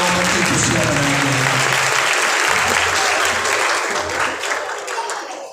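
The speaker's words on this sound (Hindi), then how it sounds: "आइए जोरदार तालियां बजाकर खुदा का शुक्र अदा करेंगे" A church congregation at a Sunday Mass for the first Sunday of Advent bursts into loud, dense applause that holds steady throughout, with low tones of a voice or instrument running beneath the clapping.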